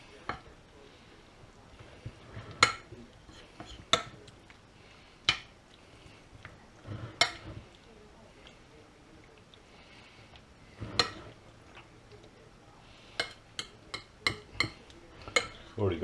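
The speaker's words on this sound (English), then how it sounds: "We'll give that a good old stir around to try and" Meat curry stirred in a slow cooker, giving scattered sharp clinks and scrapes of a spoon against the pot, irregular and fairly quiet, with a soft low background hum.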